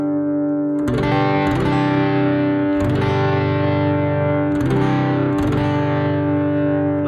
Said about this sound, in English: And on the magnetic sound, I've added a little bit of overdrive.